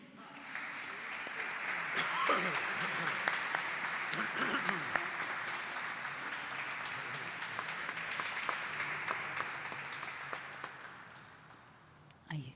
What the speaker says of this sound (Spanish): Y sostenemos este aplauso para Gustavo Coto